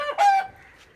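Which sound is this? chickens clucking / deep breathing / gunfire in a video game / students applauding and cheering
chickens clucking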